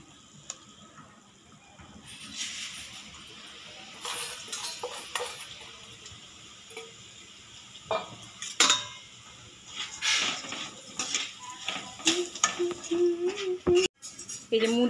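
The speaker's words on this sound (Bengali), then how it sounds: "এবার মুড়িটাকেও আমি ভেজে নিই হালকা।" Puffed rice is lightly roasted in a wok on a gas stove, with scraping and stirring clatter of a utensil against the pan that grows busier and louder toward the end, alongside soft talk.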